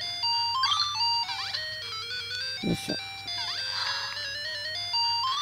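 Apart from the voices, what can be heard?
electronic beeps from a gadget, like an old Game Boy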